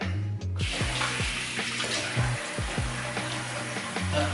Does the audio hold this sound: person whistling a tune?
no